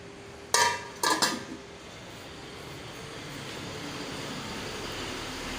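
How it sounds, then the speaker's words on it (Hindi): Metal utensils being picked up in a home kitchen clatter in two quick bursts, then fade into a steady low background hiss. "और ये बर्तन उठा लेती हूँ।"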